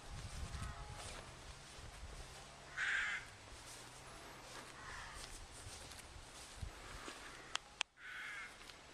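Crows caw outdoors near old church ruins, a few distinct harsh calls spaced apart against a quiet background, with some faint rustling and footstep-like sounds.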